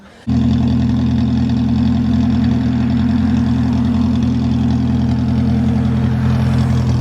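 A slammed Nissan D21 truck fitted with a massive exhaust starts and settles into a deep, rumbling idle, loud and close, steady throughout with no talking.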